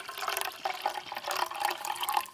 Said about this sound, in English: Pour a little out of your canteen.